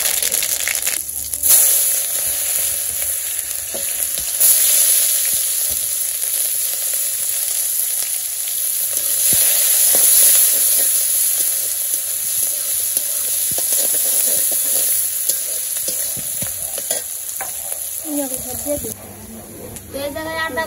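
Cumin and radhuni seeds crackle and sizzle in hot oil in a village kitchen, a steady loud hiss running throughout with brief stirring clatter near the end.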